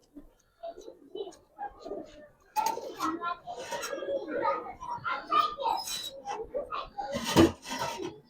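Quran-breed pigeons with purple feet and silver eyes coo in short, soft, throaty bursts, nearby and fairly quiet, while people talk close by.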